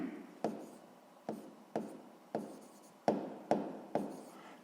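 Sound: pen writing on paper

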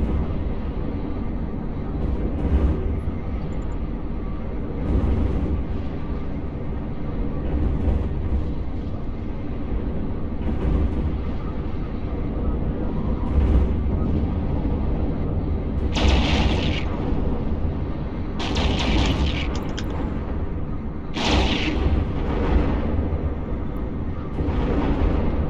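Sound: missile launch and impacts in EVE Online video game

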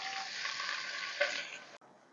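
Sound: chopped onions frying in hot oil with mustard seeds

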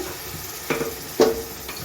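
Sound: masala sizzling as water is added to the pan

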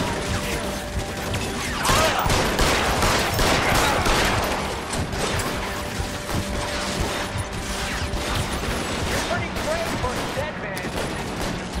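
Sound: gunfire from an enemy shooter in the video game L.A. Noire

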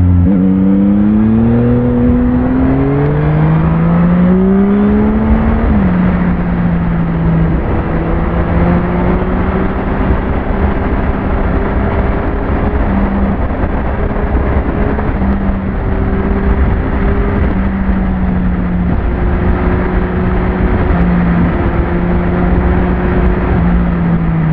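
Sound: Yamaha MT-09 SP motorcycle engine while riding

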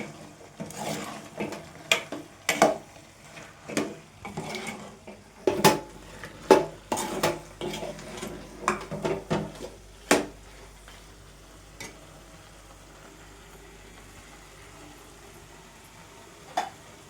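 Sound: stirring chicken with masala in a pan

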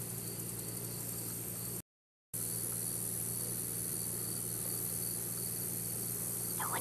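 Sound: crickets chirping at a pond

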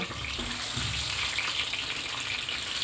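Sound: eggs frying in hot cooking oil

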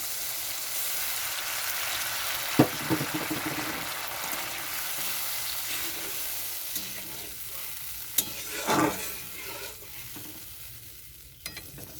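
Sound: water added to pan with mustard paste and fish roe

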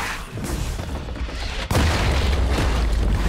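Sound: turret destroyed explosion in League of Legends video game

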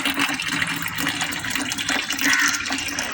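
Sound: filling a basin with water

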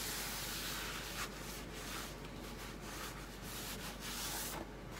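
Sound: rubbing clear wax off a painted wood craft piece

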